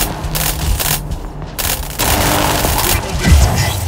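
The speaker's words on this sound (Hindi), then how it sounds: "दे गोलियाँ दे।" Heavy gunfire in the mech combat video game Mech Arena, with dense, loud bursts of rapid shots and booms rolling continuously.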